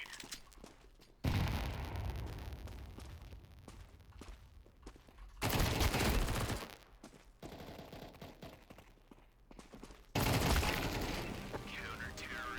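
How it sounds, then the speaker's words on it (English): Grenade blasts and gunfire ring out in a first-person shooter game, with heavy bursts around the start, middle and end that fill the sound between quieter stretches where people talk. "Grenade."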